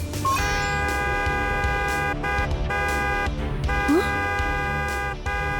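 A cartoon horn blares in sustained tones that break off and restart several times, mixed with other cartoon sounds and a voice.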